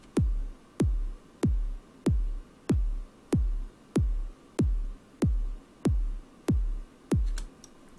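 Original unprocessed kick drum sample playing in FL Studio, a run of about a dozen evenly spaced low thumps with sharp clicks, softer and less punchy, with no talk.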